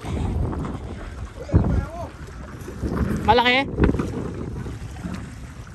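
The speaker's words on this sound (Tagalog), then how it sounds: "Medyo malakas na ang hangin." Gusty wind on Manila Bay buffets the microphone with low rumbling noise while people talk intermittently over it.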